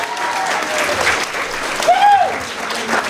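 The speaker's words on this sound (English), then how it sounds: "Give a round of applause for our speakers." A school audience at a move-up day ceremony claps warmly for student speakers, a dense, steady round of applause with a few whoops rising in the middle before it begins to fade.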